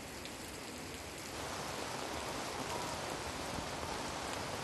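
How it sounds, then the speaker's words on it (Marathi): Heavy monsoon rain pours down in Mumbai, a dense, steady hiss of rain on surfaces that gets a little heavier after the first second and continues unbroken at a moderate distance with no voice over it. "मुंबईमध्ये पावसाचा जोर वाढलेला आहे"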